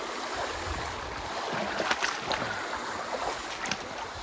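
Water rushing steadily in a deep, slippery creek at the Flynn Lick impact crater site near Gainesboro, Tennessee, a constant close wash with faint splashes and no talking.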